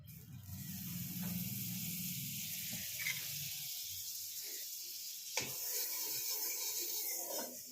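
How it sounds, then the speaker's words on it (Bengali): A small amount of butter sizzles in a hot kadai, a steady soft hiss with faint scraping, close and fairly quiet. "এই যে কড়া গরম হয়ে গেছে, এতে আমি এখন একটু সামান্য মাখন দেবো ফোড়নটা দেওয়ার জন্য"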